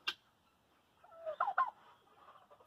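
A turkey gobbles once nearby, a quick rattling warble, after a brief sharp click at the start; otherwise quiet.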